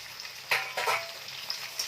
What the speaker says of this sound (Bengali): এটাকে কিছুক্ষণ আমরা ভাজা করে নেব